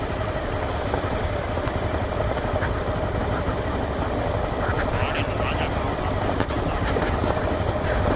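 A turbocharged Royal Enfield motorcycle engine on an uphill ride to Rani Jhari, a steady, loud, rumbling drone that holds at one level throughout with no breaks.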